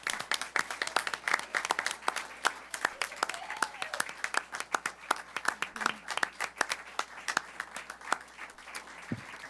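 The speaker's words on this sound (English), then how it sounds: "if we can give them a round of applause for this" Scattered clapping from a school board meeting audience, with sharp individual claps rising over a low murmur of voices throughout.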